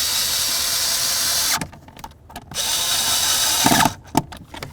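A power drill drives mounting screws on a Chevy S-10 parking brake assembly, whirring loudly in two long bursts with short pauses and ratcheting stutters between them, close by.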